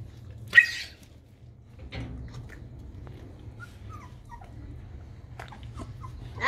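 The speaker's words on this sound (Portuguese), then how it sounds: "Olha os cachorrinhos." Three-week-old Chow Chow puppies whimper faintly and intermittently close by, with a sharper yip early on and soft whines scattered through a quiet room.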